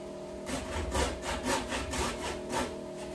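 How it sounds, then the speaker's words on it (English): A flexible Japanese pull saw cuts wood ledges for cabin window trim, giving steady rhythmic rasping strokes roughly every half second, close and alone. "Flexible Japanese saw. Way to go. Cutting out ledges for the windows."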